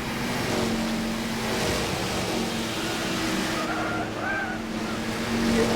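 Late model race cars roll single file on pace laps at Indianapolis in the video game GT6, a continuous moderate engine drone with faint tire noise throughout.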